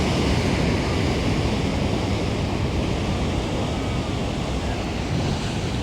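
Heavy surf pounds and roars without pause, dense rumbling waves breaking close by with wind buffeting the microphone.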